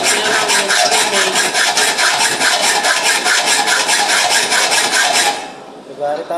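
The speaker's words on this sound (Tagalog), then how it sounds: "Bawal gumamit kasi ng grinder ngayon, kaya mamanual muna tayo ng lagaring bakal" Rapid, even rasping strokes of a hand hacksaw biting into a metal stair tread, loud and close, stopping near the end as a voice begins.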